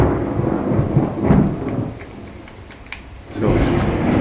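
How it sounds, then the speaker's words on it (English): Rain and thunder in the video game Slender Man's Shadow: steady rainfall with deep rolling thunder rumbles swelling and fading, an ambient storm with no voices. "It's raining."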